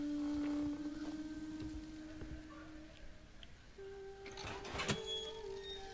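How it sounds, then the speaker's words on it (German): Creaking, squeaking gate swinging open in the horror game Maid of Sker, a long sustained squeal with a steady whine that drops away, then a second drawn-out creak with scraping bursts, moderately loud over ambient game noise. "Also ich habe auf jeden Fall mal was knarren und quietschen hören, das wird schon das Tor gewesen sein."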